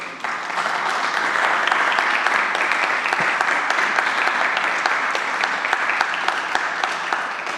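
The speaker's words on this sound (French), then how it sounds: "Est-ce qu'on peut acclamer pour Jésus?" A church congregation applauding and cheering for Jesus, a dense, sustained wash of clapping from many hands that holds steady and loud throughout.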